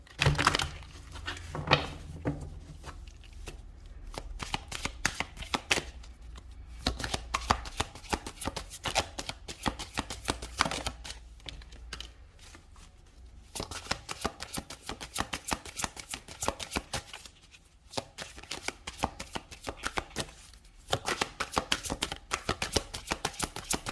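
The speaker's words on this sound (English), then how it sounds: "One more shuffle." Tarot cards being shuffled in quick riffling bursts, pausing and resuming over and over, close and fairly quiet.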